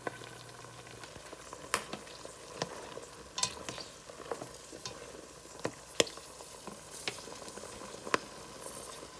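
Cranberries cook in a pan, giving a steady low simmering bubble broken by sharp pops and crackles as the berries burst, irregular clicks scattered across the stretch at moderate close range with no talking.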